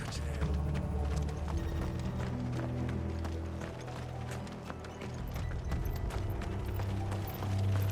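Hooves pound in a rapid, continuous clip-clop rhythm as several horses gallop in the video game Final Fantasy XVI, layered over a low, droning musical background.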